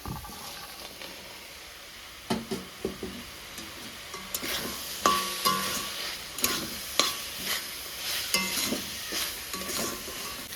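Spice masala being stirred and fried in a pan: a soft sizzle with repeated scraping spoon strokes that begin after a quiet start and keep an uneven rhythm, with no talking.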